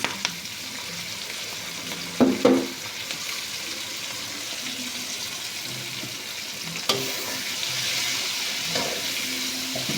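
Chicken and vegetables frying with a spoonful of soy sauce, a steady broadband sizzle with a few knocks and scrapes of stirring, close and moderately loud with no talk.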